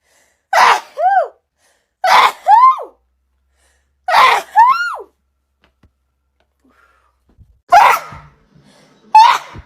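A girl sneezes several times in a row, with four or five sharp, voiced bursts separated by short pauses, close and loud, with no talking in between.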